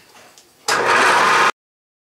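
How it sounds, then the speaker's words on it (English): A milling machine fitted with a 3/4 inch carbide cutter starts up with a sudden loud motor whir, runs at a steady hum for under a second, then cuts off abruptly into silence. "I'm ready to mill, and I've got that 3/4 inch carbide cutter in there"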